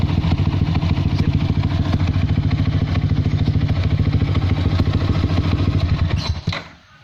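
A Yamaha R15 V3 motorcycle fitted with a Prospeed Black Series aftermarket exhaust runs steadily, its loud throbbing, slightly rattly exhaust note held close for several seconds before cutting off abruptly.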